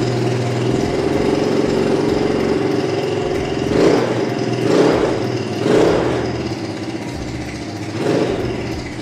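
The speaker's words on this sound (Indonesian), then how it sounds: "kita coba dengerin dulu kali ya suara knalpot yang bentukannya keren ini" The stock dealer exhaust of a British-brand, Thai-built 175 cc automatic scooter runs at a steady, loud, rumbling idle, swelling with four short throttle blips.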